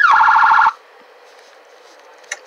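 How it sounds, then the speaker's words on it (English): Police car siren in a video game, a loud electronic wail with a rapid pulsing tone lasting under a second before cutting off, leaving a faint hum and a brief click near the end. "Sirens."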